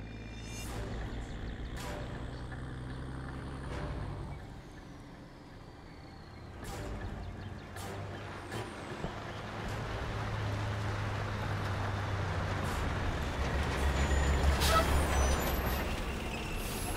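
Engine rumble of an approaching military vehicle convoy in Call of Duty 4: Modern Warfare, low droning that swells gradually with brake hisses and distant clanks, faint radio chatter over it.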